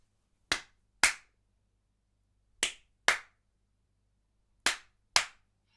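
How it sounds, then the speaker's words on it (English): One person claps near a device in three pairs of sharp, crisp claps. Each pair is two quick claps about half a second apart, with roughly a second and a half of near-silence between pairs. "So I'll clap again."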